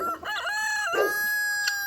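A rooster on a farm lets out one clear, loud cock-a-doodle-doo close by, its drawn-out crow rising and falling over quiet surroundings.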